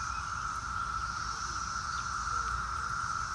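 Cicadas buzzing in a Maryland garden during the 2021 emergence, a continuous dense droning chorus holding steady throughout with no talk.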